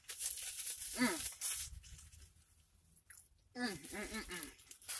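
Chewing a juicy Five Guys burger close to the mic, with wet squishing bites and soft humming sounds between mouthfuls.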